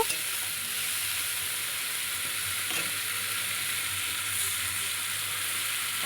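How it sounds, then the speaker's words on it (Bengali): Spicy masala with chili powder sautéing in a pan: a steady, dense sizzle and hiss that holds evenly throughout, close and fairly loud, with a faint utensil touch or two and no talk. "আমি অল্প করে দিলাম দিয়ে মশলাটা আর একটু কষিয়ে নেব"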